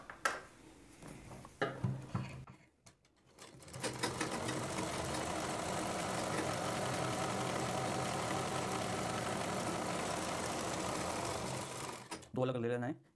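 A sewing machine stitches fabric for a kanchali blouse sleeve. A few brief handling clicks come first, then the motor hums in a steady, quiet run for about eight seconds before stopping.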